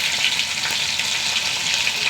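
Mustard seeds and dried red chillies sizzling in hot oil, a steady bright crackle and spatter, close and continuous with no voices.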